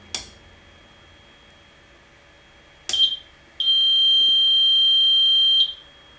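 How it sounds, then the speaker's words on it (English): An Artex ELT 345 emergency locator transmitter in an RV-7A aircraft sounds a test: two short sharp beeps, then one long steady high-pitched tone of about two seconds, close and clear with no talk. "One long beep, that's it. Test complete."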